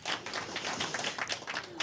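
An audience applauds a presenter stepping up onto a speaking platform, a dense, continuous patter of many hands clapping at close range for under two seconds.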